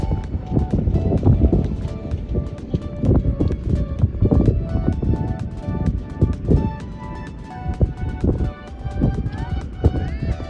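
A horse gallops through shallow water on a beach, with quick rhythmic hoofbeats and splashes up close and steady wind noise. Other sounds come and go across the run.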